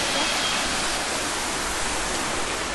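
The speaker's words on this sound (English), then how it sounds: "So we are at Williamsport Falls, and that is the biggest waterfall, 90 feet tall." Williamsport Falls, a 90-foot waterfall in Indiana, pours in a steady, dense roar of rushing water that stays even and loud throughout, with no voices.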